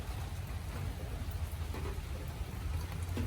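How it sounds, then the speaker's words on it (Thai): Steady, calm rainfall pattering over a garden with small huts, no wind or thunder, a soft continuous hiss at moderate distance with no one speaking. "สดชื่นครับเวลาฝนตก ต้องตกแบบนี้ครับ"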